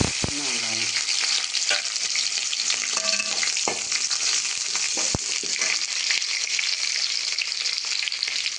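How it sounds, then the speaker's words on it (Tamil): Fenugreek seeds and onion fry in hot oil for tempering a rock fish curry, a loud, steady close-up sizzle with occasional spoon scrapes and clinks against the pan. "தாளிப்புக்கு வெந்தயம், வெந்தயம் போட்டு பொரிஞ்சோன்னே இன்னும் வெங்காயம்"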